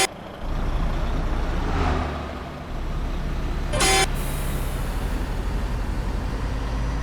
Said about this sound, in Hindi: इसका जो इंजन साउंड है वो रियलिस्टिक है